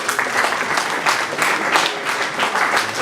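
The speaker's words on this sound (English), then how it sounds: "A round of applause for the panel" Sustained, fairly loud audience applause for a panel at a power-sector dialogue event, a dense continuous patter of many hands with no talking over it.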